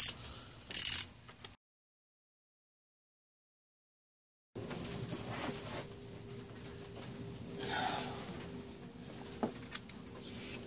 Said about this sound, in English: So we're going to go about 90 degrees with the ratchet.